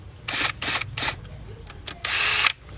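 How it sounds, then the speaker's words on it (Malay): A power drill drives screws back in on the coolant hose of a BMW F10 520d's N47 diesel engine, whirring in three short bursts, then a longer final run, close and loud. "Ikat balik skru je."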